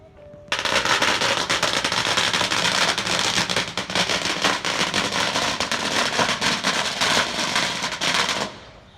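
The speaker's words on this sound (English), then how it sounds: "So the people give the workman the firecrackers, and he puts them into the chimney" Firecrackers explode in a chimney at the Wat Chalong temple, a loud, dense, nonstop crackle of rapid bangs that starts abruptly and runs for about eight seconds before cutting off.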